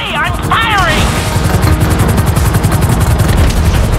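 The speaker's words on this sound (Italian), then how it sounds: "Tre elicotteri." Helicopters in GTA 5 during a forceful heist mission: a steady low rotor thrum runs throughout, with rapid chopping pulses, dense crashes and gunfire-like bursts layered on top, plus a few rising electronic chirps near the start.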